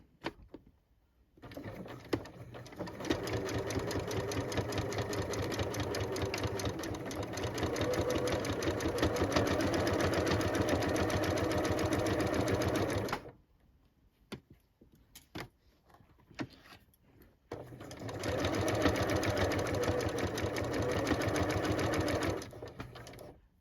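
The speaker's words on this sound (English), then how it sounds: "So it's on a straight stitch and I'm going to sew quite close to this edge here." A sewing machine runs a straight stitch close to the edge of a denim jacket waistband, with two long, steady, close-up bursts of stitching separated by a short pause.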